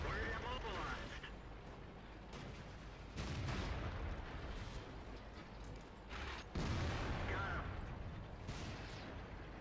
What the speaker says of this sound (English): just keep putting out those shells, keep putting them out